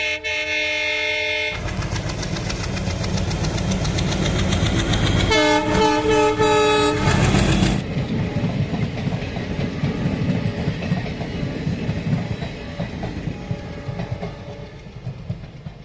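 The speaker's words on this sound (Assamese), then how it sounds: "দেন সেইপিনে ট্ৰেইনো এখন আহিছে।" A train passes close by in the rain with a loud blaring horn, followed by heavy rumbling and rhythmic clatter of wagons rolling along the tracks.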